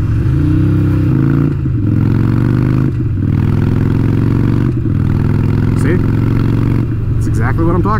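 Motorcycle engine running steadily while the rider shifts gears, its drone dropping and rising at each change with brief gaps between, as someone talks over it.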